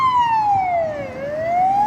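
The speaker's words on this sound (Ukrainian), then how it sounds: "Швидка поспішає до когось." An ambulance siren wails while passing along a street in Odesa, its tone sweeping down then rising again, loud and close with no talking.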